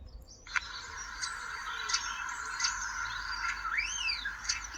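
A common starling in a garden gives thin, rising and falling whistles mixed with clicks and chirps, a faint, steady series over a low background hum.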